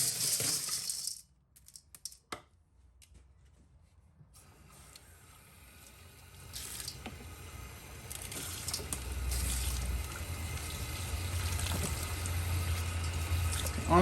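Water running and sloshing as tumbled rocks are rinsed in a bowl after a Raytech Tumble Vibe polish, a sharp clatter at first, then a steady low wash of flowing water that grows louder toward the end.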